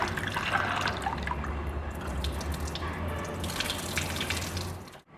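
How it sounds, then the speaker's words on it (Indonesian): Soaked soybeans being washed in water to strip their hulls for tempeh, a steady close splashing and sloshing of water and beans with running-tap wash continuing throughout until it cuts off at the end. "yang sudah kita rendam tadi, kemudian kita cuci ya, kita hilangkan kulit arinya"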